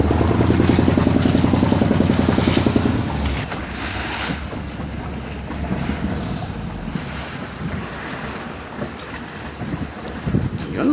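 Small unnamed fishing boat motoring on open water: a loud engine throb for the first three seconds, then a softer rush of wind, water and waves against the hull with scattered splashes.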